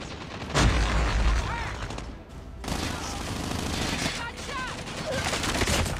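Gunfire in the mobile shooter Call of Duty Mobile, rapid bursts of automatic shots and booms crowding a busy firefight, with someone talking over the shooting.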